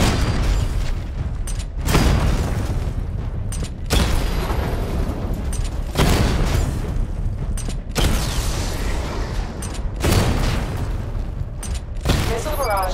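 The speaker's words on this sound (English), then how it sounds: "Destroy targets to charge up weapon energy and activate missile barrage." Weapons blast targets in the Batman: Arkham Knight video game, with loud, close booms landing about every two seconds over a continuous grinding mechanical rumble.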